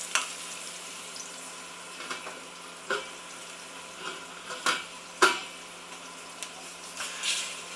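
Potatoes cooking slowly under a lid in a pan over low heat give a faint, steady sizzle, broken now and then by small pops and crackles.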